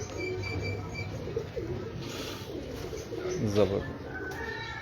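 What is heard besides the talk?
pigeon cooing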